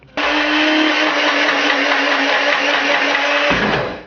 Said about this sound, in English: you force this down on the blender while pulsing at the same time